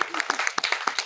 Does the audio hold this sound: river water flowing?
no